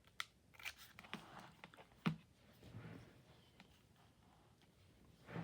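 Scissors snip through a paper wing cutout on a scrapbook page, giving a few quiet, separate crisp cuts spread through a hushed room, the sharpest near the middle.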